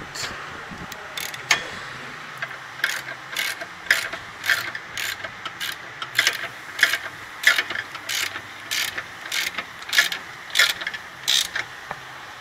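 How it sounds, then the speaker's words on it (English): Ratchet wrench turning a bolt on a Dodge Charger lower control arm, a close, loud run of rapid clicking bursts repeating in an even back-and-forth rhythm for several seconds, with no talk over it. "ratchet, reversed it."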